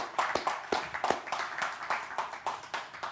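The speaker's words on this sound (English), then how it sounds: "A round of applause, please, for João Paulo and team." Sparse handclaps from a small audience at a seaweed day event in Lisbon, honouring the technical team: distinct separate claps in an uneven rhythm, close and moderately loud.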